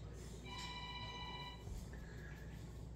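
Business telephone ringing indoors in the evening, a single electronic ring tone of about a second followed by a softer partial ring, moderately faint over steady room hiss.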